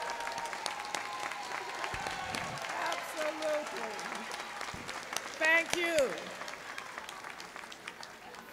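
Steady applause from a large audience at a 2014 business school commencement fills the room, with a few voices speaking briefly over the clapping.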